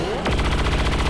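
Gunfire in XCOM 2 War of the Chosen: a loud sharp report followed by a rapid burst of repeated shots, steady and close, with no talk over it.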